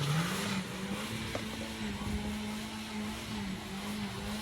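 A Volkswagen estate car launches in a drag race at Santa Pod, its engine holding a steady loud drone that climbs in pitch, with a broad rumble of exhaust and track noise throughout.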